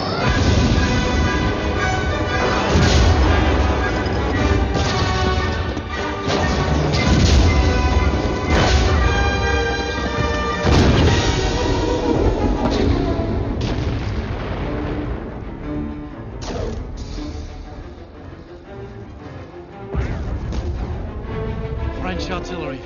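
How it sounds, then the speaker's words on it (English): French artillery barrage booming repeatedly and loudly in a wartime setting, dense overlapping blasts and crashes over a sustained rumble for the whole stretch, with a fresh heavy burst near the end. "French artillery. Very impressive."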